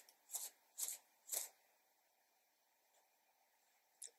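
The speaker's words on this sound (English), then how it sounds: "what I'm gonna do with my wig, my red wig, I'm gonna shake it." A red synthetic wig is shaken out, giving three quick rustling swishes close up, then quiet with a faint final rustle.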